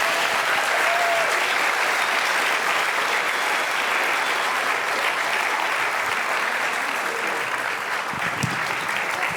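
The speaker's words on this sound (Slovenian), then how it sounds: "Vi pa ploskajte, no." Audience applause at the POPRI 2024 award ceremony: a continuous, dense wash of clapping from a large crowd, steady and fairly loud from start to finish.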